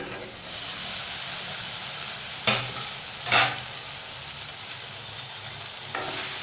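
Okra stir-fried in a pan after the lid is lifted, a tomato bhendi bhaji: steady close sizzle and hiss with a couple of sharp spatula scrapes, no voices.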